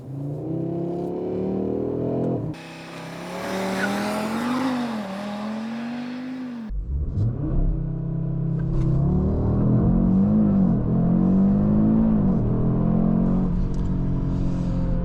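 An Audi RS 3 engine revs hard and accelerates through gears, pitch climbing then dropping at each shift, with a loud roar and squealing tire noise throughout.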